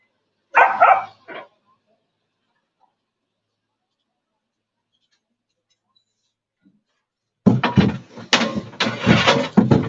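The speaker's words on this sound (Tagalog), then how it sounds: "Aso." A dog gives a short, close burst of barks near the start, then silence, and a dense stretch of louder noise fills the final seconds.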